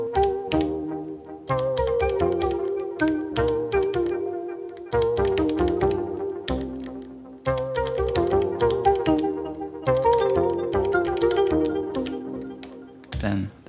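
Plucky synth notes from an Elektron Digitone play short melodic phrases in repeating bursts with brief gaps between them. The sound is clear and fairly loud, with no voices.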